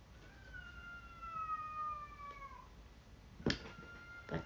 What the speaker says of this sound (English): That cat is very loud.